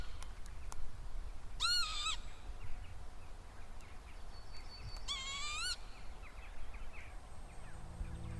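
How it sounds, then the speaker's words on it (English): Two bursts of a northern lapwing's call ring out at about 1.7 and 5 seconds, rising and wavering, heard at moderate distance over a steady low outdoor rumble in the quiet of a mossy birch forest. "this unique bird call that I think is a northern lapwing"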